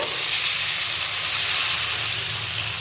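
Gola ruti batter sizzles steadily on a hot oiled griddle, a loud, close, continuous hiss with no talking.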